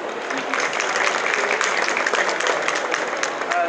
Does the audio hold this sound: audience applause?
yes